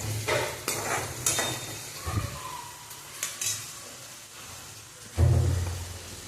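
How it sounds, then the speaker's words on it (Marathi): Tomato and onion roasting in a pan for drumstick amti, with intermittent scraping and stirring strokes over a soft sizzle, a few clinks of a utensil and a louder stir near the end. "टोमॅटो आणि कांदा एकदम व्यवस्थित भाजून घ्यायचा"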